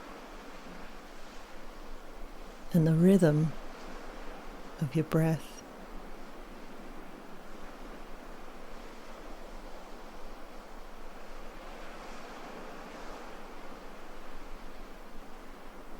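Soft ocean surf at dawn in Bali rolls toward shore as a steady, faint hiss and wash, with a calm voice narrating briefly over it early on.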